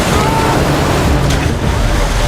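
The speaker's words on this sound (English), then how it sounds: "Then a huge wave hit." A huge wave crashes on a turbulent river in a film scene, a loud, continuous roar of churning water and rushing noise that fills the whole moment without letting up.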